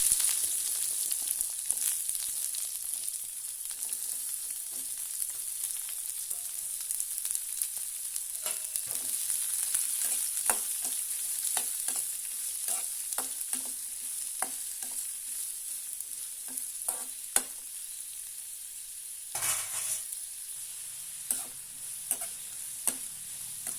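Chopped onions sizzle steadily in a hot pan for a drumstick curry, a constant bright hiss broken by frequent small crackles and pops, with a brief louder burst of stirring near the end.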